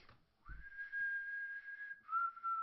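A person whistles a sustained, steady tone that holds for over a second, breaks briefly, then resumes on a slightly lower pitch, clear and fairly close, with a short low thump near the start.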